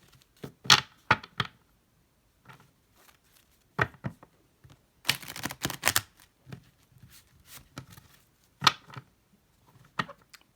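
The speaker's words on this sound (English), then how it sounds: "I'm just going to go ahead and shuffle the cards" Tarot cards are shuffled by hand in quiet bursts of crisp riffling and tapping, with short clusters separated by pauses and no talking.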